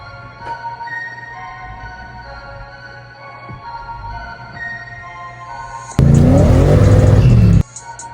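A supercharged Ford Mustang, revived after a decade of sitting, idles low on the street before its engine bursts into a loud, full-throttle roar of acceleration for about two seconds, then cuts back abruptly.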